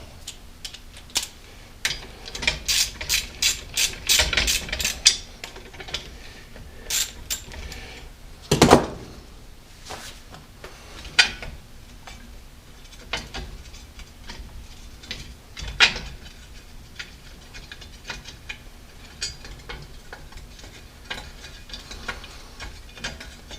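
Ratchet wrench clicking while a window regulator motor is removed from a Lincoln Continental door, with quick close bursts of ratcheting separated by pauses and occasional clanks of metal.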